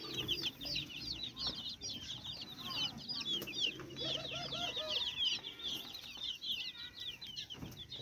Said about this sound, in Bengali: দেশি মুরগি ব্রয়লার মুরগি সোনালি সবকিছু মিক্স